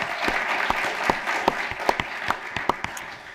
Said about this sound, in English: how about a round of applause for our city librarian